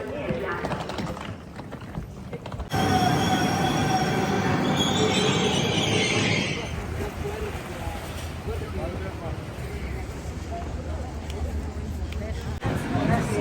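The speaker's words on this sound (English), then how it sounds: "Now we're going on a choo-choo train." A train ride in Italy, with rolling wheels, clattering rail joints and a high squeal of wheels on track, loud and close throughout, while people talk over the noise.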